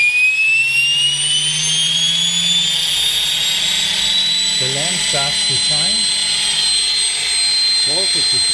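Small model steam turbine generator spun up on 60 psi compressed air gives a loud, steady high-pitched whine that climbs in pitch throughout, with a low hum beneath and someone talking briefly over it.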